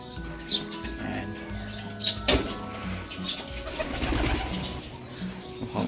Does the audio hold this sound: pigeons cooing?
yes